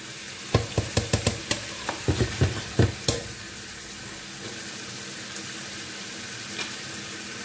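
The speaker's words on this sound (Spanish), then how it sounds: "Lo vamos a ir removiendo para que no se nos pegue nuestra cebolla" Chopped onion frying in a pan, a run of rhythmic spoon knocks and scrapes against the pan as it is stirred, then easing into a steady sizzle with only occasional taps.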